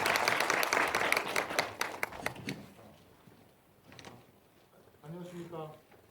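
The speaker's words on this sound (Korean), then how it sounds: "박수 좀 부탁드립니다" An audience at a Ulsan admissions-strategy information session claps for a few seconds, dense clapping that thins out and fades, followed by quieter room sounds and a voice near the end.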